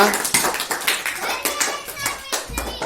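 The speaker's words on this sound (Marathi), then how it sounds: "छान टाळ्या वाजवा" Schoolchildren clap their hands in a classroom during a number-reading lesson, producing a quick, rhythmic run of close, sharp claps with a voice speaking over them.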